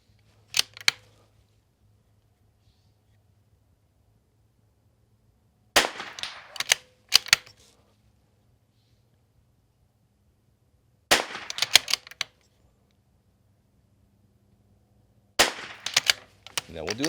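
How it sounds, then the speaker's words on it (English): Rifle shots crack out at a small target during an NRL22 rimfire match, arriving in four separate bursts of several quick, sharp reports, each cluster followed by a long quiet gap. "we're going to shoot the small target"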